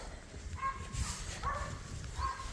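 Puppies yipping and barking a few times at a distance, faint over a low indoor hum.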